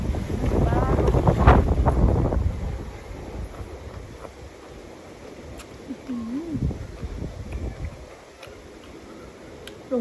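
Dry wind gusting outdoors in the evening, buffeting the microphone with loud rumbling bursts that ease into a steadier, softer blowing, with a voice speaking briefly.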